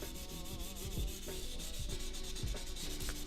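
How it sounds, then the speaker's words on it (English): A steel HEMA-rated sword blade being sanded with sandpaper, giving a steady close rasping rub with repeated back-and-forth strokes and occasional soft thumps. "I think I might have to change my sandpaper soon."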